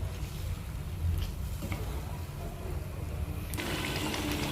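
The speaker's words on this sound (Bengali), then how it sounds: "এবার মশলার বাটিটা ধুয়ে দিয়ে দিচ্ছে সামান্য পরিমাণে জল।" Water swished around a rinsed spice bowl is poured into a simmering bhetki fish curry, a low, steady splashing trickle that runs for a few seconds at modest volume.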